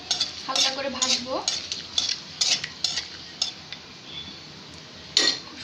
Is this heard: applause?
no